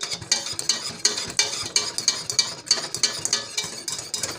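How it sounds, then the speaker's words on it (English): A spoon scrapes and clicks rhythmically around a pot of boiling walnut pie filling, roughly two strokes per second, close and clear with no talking. "I'm going to keep stirring this while it's boiling"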